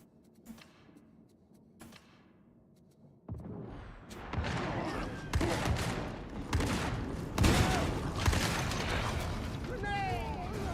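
Explosions and gunfire from the video game Warhammer 40,000: Darktide, starting quiet with a few isolated pops, then building into dense, loud, continuous combat with bursts of shots and blasts, mixed with other game effects.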